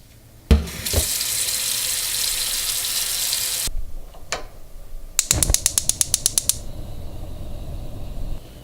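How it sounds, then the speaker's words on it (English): A kitchen tap runs hard into a cooking pot holding an onion for borscht broth, a steady loud gush for about three seconds, then clinks and a quick rattling burst of clicks as the pot is handled. "we're just gonna put it inside and fill it up with water"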